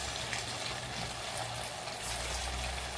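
Potato patties for a fasting meal fry in hot oil in a wok, giving a steady, even sizzle that continues without a break throughout.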